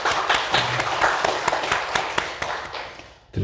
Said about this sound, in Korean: 다시 한번 박수영 올리겠습니다.